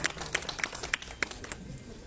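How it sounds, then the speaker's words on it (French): An audience at a French village awards ceremony for holiday lights and nativity scenes claps in a light, scattered patter of individual hand claps, moderately near and fading toward the end. "Allez, on applaudit bien fort Monsieur Bourgeois, merci."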